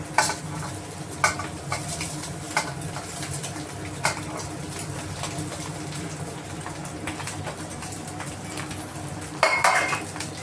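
Cooked rice tipped onto fried egg in a pan for chicken schezwan fried rice, then stirred: repeated metallic spatula clinks and scrapes over a steady frying hiss, with faint chirping in the background and no speech.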